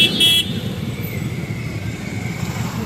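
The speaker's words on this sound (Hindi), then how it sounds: "ट्रैफिक बंद है सारा," Jammed street traffic in a crowded shopping market, with one short, loud car horn toot at the start followed by a continuous idling rumble of vehicles.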